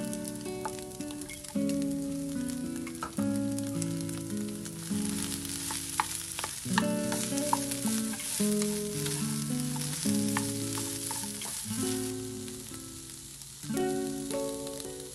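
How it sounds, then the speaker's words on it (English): Rice and vegetables in a low-carb stir fry sizzle loudly and continuously in a hot pan, with scraping from stirring and tonal music underneath throughout. "it's probably going to be better for you to add the rice directly into the stir fry"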